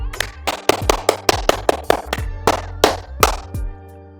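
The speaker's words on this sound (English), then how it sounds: "I just clapped with no reason" A single person claps their hands about a dozen times, close and loud, in a quick uneven rhythm that slows toward the end, with no talking.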